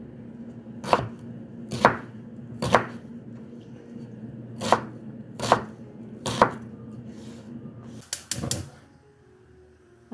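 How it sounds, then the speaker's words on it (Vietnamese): A knife dicing an onion into small cubes on a cutting board, seven sharp, separate chops spaced roughly a second apart, then a quick cluster of cuts near the end, close and clear with no talk. "Củ hành á thì mình sẽ cắt ra thành hạt lựu luôn."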